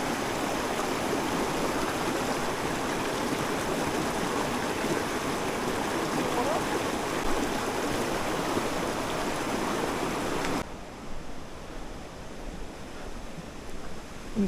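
Water rushing steadily through the Golden Rapids stream at Tongariro, a dense, loud, continuous roar of rapids that drops sharply in level near the end as the sound cuts quieter.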